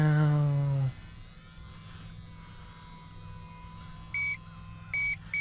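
A high electronic low-battery warning beep from a Sport Cub S 2 RC plane sounds in short repeated pulses over a steady motor whine after the engine note drops.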